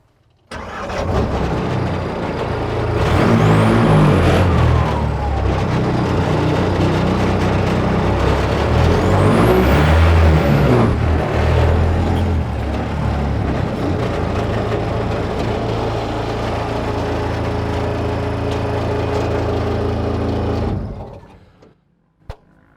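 A VOLS military buggy with rear-wheel drive only and off-road tyres starts up and drives off-road, its mid-pitched engine running loud and steady for about twenty seconds before cutting out.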